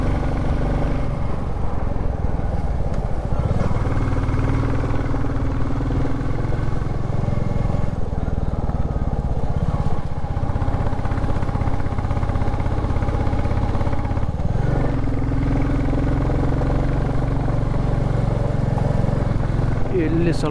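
KTM motorcycle engine pulling hard on a ride toward Avalabetta hill, a continuous close droning rumble that shifts pitch as it is revved through gears, with wind rush and voices over it.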